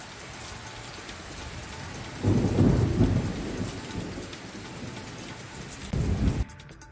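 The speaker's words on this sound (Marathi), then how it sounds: "विजांच्या कडकडाटासह मान्सूनपूर्व पावसाला सुरुवात झाली" Pre-monsoon rain falls steadily with thunder, two loud rumbling bursts of thunder rolling in over the constant patter of the downpour, with no voices.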